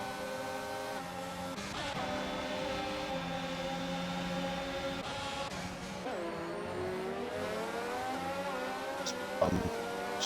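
Ferrari Formula 1 car engine in a racing game on the Baku street circuit, a steady high-pitched whine rising and falling through gear shifts, with other cars' engines layered underneath and a faint voice in the background.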